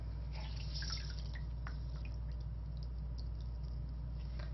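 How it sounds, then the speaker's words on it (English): Water drips from a saturated cleaning cloth squeezed out with tap water, a few quick, faint droplets falling close by over a steady low hum. "I'm going to saturate my Ultimate cloth and squeeze out all the moisture"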